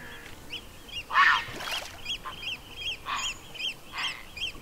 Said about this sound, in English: I think it's some oyster catchers flying overhead.